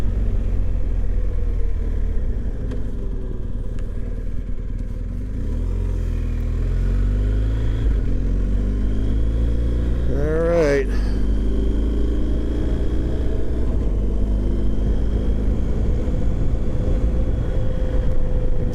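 A motorcycle on a last ride, its engine droning steadily with a deep rumble and wind noise. Mid-clip the engine revs up through a rising shift, then settles back into a continuous cruising hum.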